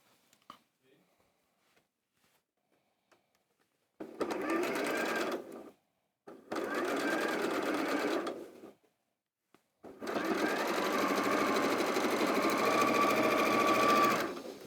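A sewing machine stitches quilt blocks in three separate runs: two bursts of about two seconds each, then a longer run of about four seconds. Each run has a steady, rapid mechanical whir, with near silence between them.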